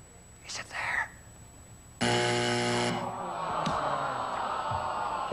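A loud, flat electronic game show buzzer on 1978 Family Feud blares for about a second, after faint whispering, then a crowd murmur and studio noise continue behind it.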